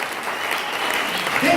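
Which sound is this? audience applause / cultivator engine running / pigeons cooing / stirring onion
audience applause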